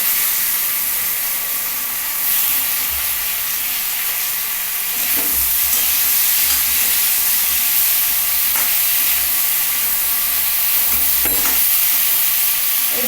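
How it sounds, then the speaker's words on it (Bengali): Tomato and capsicum fry in a pan with a loud, continuous hissing sizzle, with a few faint stirring scrapes underneath and no talking. "টমেটো আর ক্যাপসিকামটা আগে দিয়ে নিলাম"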